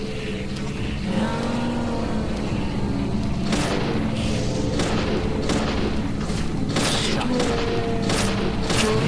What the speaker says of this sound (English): I think I will use some of those exploding barrels this time